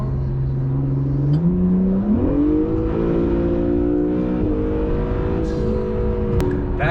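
Twin-turbo supercar engine in Sport Plus mode revving, its pitch climbing in steps through a sustained loud drone, with a brief sharp burst near the end.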